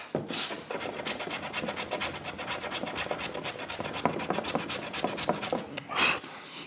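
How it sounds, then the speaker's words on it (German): A hand plane takes a few quick passes over a wooden tabletop to remove excess material, giving a rapid series of close, dry rasping strokes in a fast even rhythm, with no voices. "Dann hobel ich da gern zwei, dreimal drüber, einfach um den groben Überstand abzunehmen."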